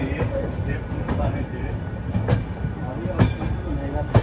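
A Kumbh Mela special train from Prayagraj to Visakhapatnam rolls along the rails with a steady rumble, punctuated by periodic clacks and thumps from the carriage.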